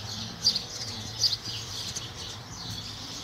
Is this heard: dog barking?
no